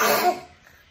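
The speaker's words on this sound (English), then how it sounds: "Coughing girl. Mine's coughing girl." A girl gives one short, sharp cough, close and fairly loud, and then it falls quiet.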